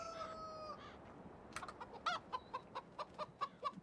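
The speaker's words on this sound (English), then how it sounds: "Let's go check our chickens while we're here." Farm chickens in the Farming Simulator 17 video game cluck in a quick, uneven series of short calls after a brief crowing note, fairly faint and without voices.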